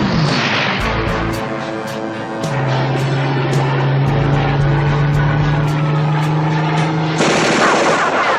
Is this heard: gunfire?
yes